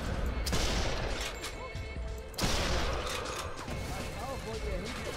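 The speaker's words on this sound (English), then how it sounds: "Are they really shooting a tank at me?" Sniper Elite 3 battle with a tank firing and gunfire crackling, dense bursts of shots and heavy booms layered over a continuous din, with a sharp loud impact midway and a voice talking throughout.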